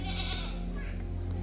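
Goats bleat in a rural setting near a banyan tree with chickens about, steady calls layered over a constant low rumble of outdoor ambience throughout.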